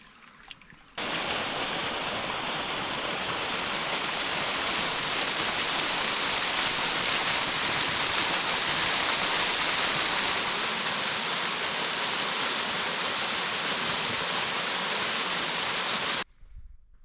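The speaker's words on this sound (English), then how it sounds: "down below us, on the other side of our tents, we have a running creek, and then Obsidian Falls somewhere down there" A running creek below a campsite near Obsidian Falls in the Oregon Cascades rushes in a steady, loud, broadband wash of water that continues unbroken throughout.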